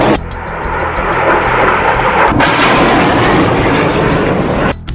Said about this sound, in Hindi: हमास एक के बाद एक 10 रॉकेट फायर करता है